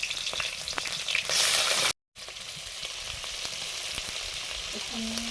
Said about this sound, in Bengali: কড়াতে তেল দিয়ে দিলাম সর্ষের তেল চিংড়ি মাছগুলো ভেজে নেবো